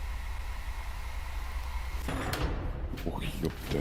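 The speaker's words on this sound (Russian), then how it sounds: "еще и дверь" A door opens or closes with one abrupt, fairly loud thud and rattle midway, set against a constant background hiss.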